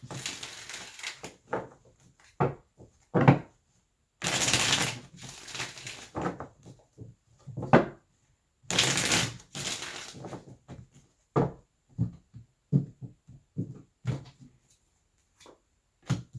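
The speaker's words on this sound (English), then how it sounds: "So let's go ahead and pull cards for your person." Tarot cards being shuffled and drawn for a reading: two loud riffle bursts of shuffling among many short, crisp card snaps and taps, close and alone.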